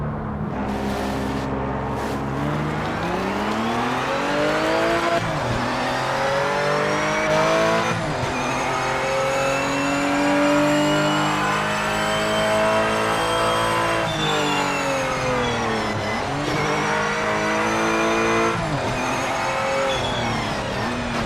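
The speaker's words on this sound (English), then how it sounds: "Cars go by." Race cars in the Project Motor Racing video game roar past one after another, engines revving up and down through gear changes, with occasional tire squeal, loud and continuous.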